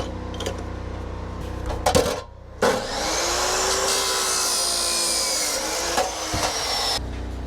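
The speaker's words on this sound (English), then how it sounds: "Get some safety glasses and we'll cut this last hose." A hose on a drill rig is cut with a tool, a loud close grinding, whirring cut that runs steadily for several seconds after a few knocks and handling clatter, then stops abruptly.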